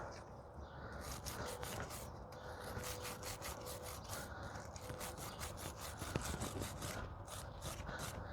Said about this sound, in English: clean the threads off of the caliper bolts